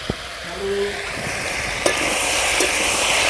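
A pot of mankochu (giant taro) and rohu fish curry being stirred, soft scraping strokes with a few spoon clinks over a low steady simmering sizzle, fairly quiet and without talk.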